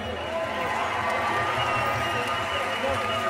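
Outdoor crowd at the Los Almiros Fest in Kouri Forest, a summer rock band festival, claps and cheers in a dense, steady wash of noise with a loud, broad roar throughout.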